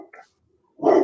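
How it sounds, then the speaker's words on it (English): A dog barks in a loud, close burst near the end of the clip, after a brief faint sound and a moment of near silence. "my dog's putting on a woof fest"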